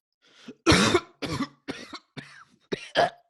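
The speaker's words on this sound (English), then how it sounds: "Cough." A series of harsh coughs, six or so bursts in a ragged rhythm, close and fairly loud, with a throat-clearing quality.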